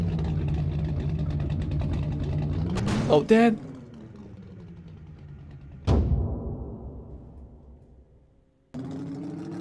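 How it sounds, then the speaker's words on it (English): A car engine in the Roblox game Vehicle Simulator idles and revs, climbing in pitch with a sharp burst near three seconds and another rev at six seconds that winds down, with a voice talking over it. "Love how the engine gets faster and faster and faster."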